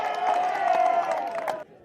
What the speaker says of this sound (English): the crowd on heightened alert supporting the home team